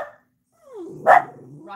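Pet dogs at home give a short whine and then a single sharp, close bark, followed by low growling and whimpering.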